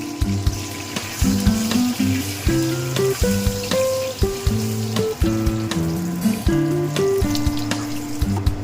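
Onions and spices frying in a pan for egg biryani, with a steady close sizzle and intermittent clinks and scrapes of stirring throughout, no talking.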